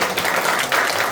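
Church congregation applauding at an evening revival service in Daejeon, a steady dense wash of clapping filling the whole short moment without a break.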